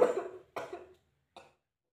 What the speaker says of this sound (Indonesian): Kalau kita nutup batuk pakai telapak tangan, nanti virus yang ada dalam tubuh bakalan pindah ke tangan deh.